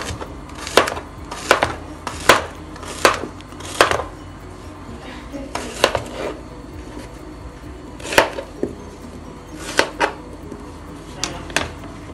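Plantain being cut with a knife on a board, about a dozen crisp, evenly spaced chops, close and clear over a quiet kitchen background.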